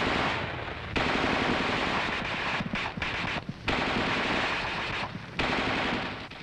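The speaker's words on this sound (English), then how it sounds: "The gunner continues to fire in 20 to 25 round bursts until he receives the command, Target, cease fire." An M551 Sheridan coaxial machine gun fires in several loud sustained bursts separated by brief pauses, close and harsh, with no voices.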